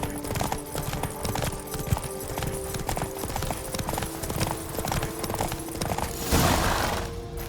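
Horse hooves clip-clopping steadily at a trot in The Witcher 3, a continuous rhythmic clatter with game ambience behind it and a brief louder swell near the end.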